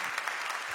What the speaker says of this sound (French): applaudissez-les surtout